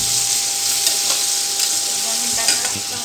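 Chilies stirred and frying in hot oil, a close steady sizzle with scraping stir strokes from a spoon in the pan.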